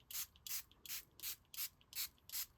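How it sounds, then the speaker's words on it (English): A Stampin' Spritzer spray bottle mists water over an inked watercolor background, giving seven quick, evenly spaced hissing spritzes, close and clear, with nothing else heard. "I'm going to take my Stampin' Spritzer"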